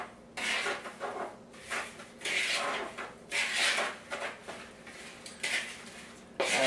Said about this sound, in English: Now I'll mix these up to make sure I have that consistency that I'm looking for.